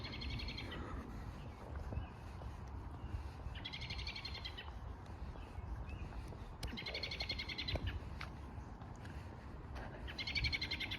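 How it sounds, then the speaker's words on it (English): Birds call in West Deane Park, with repeated bursts of bright chirping song recurring every few seconds over a steady outdoor background rumble, at moderate distance. "listen to the sound of the birds."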